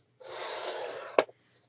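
Paper being scored with a scoring tool for a handmade mini album, a single short scratchy drag of about one second ending in a sharp click, then a faint brief rub.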